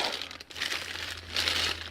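Close, continuous crinkling of a plastic bag as a garage door opener camera accessory is removed, rustling steadily and growing a bit louder toward the end, with no talking.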